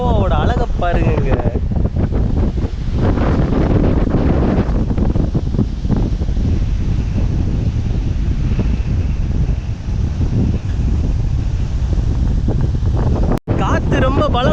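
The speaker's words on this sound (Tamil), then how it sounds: "அவ்வளோ காற்று வருது" Strong wind at the Goa seaside roars and buffets the microphone nonstop, a loud rumbling gust that masks everything else, with a sudden sharp knock near the end.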